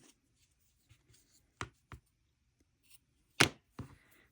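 Scissors cut thread while a tassel is being made, giving a few faint, sharp snips and clicks spaced apart in a quiet room, with the last two cuts closest and loudest.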